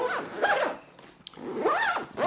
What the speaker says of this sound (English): and we zip it back up.